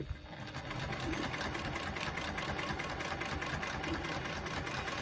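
Sewing machine quilting through faux leather over a foam backing, a steady continuous mechanical whir with a rapid needle rhythm running the whole time, close and fairly loud.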